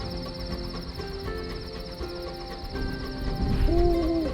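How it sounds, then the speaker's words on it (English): Owl hooting in the video game Sunless Skies, a soft wavering double hoot near the end over a steady hum of game ambience. "The owl settles on your bedpost and goes to sleep."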